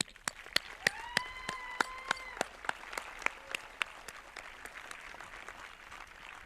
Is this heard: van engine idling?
no